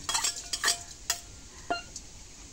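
Chili and onion tossed into a hot wok, with several sharp scraping stirs of a metal spatula over a steady low sizzle, close and fairly loud.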